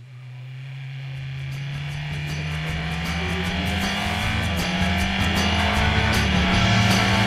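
A race car engine accelerates at a motorsport school, its tone climbing steadily and growing louder over several seconds, with a constant humming drone underneath.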